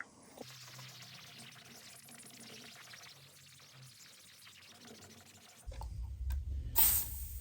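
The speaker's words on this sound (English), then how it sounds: "So I just sprayed it on" Cleaner is sprayed onto the satin flame wrap of a 1960s Gretsch round badge guitar, a quiet stretch ending in a close, hissing burst of spray.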